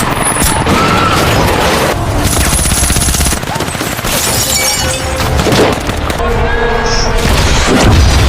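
Loud action-movie gunfire and explosions, with rapid shots, booming blasts and shattering debris in a dense continuous barrage.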